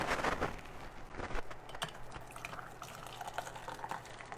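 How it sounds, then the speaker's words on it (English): Canning lids and rings boil in a pot of water, with a soft, continuous bubbling and occasional clinks and stirring sounds nearby, and no voices. "she's boiling her lids and rings right now"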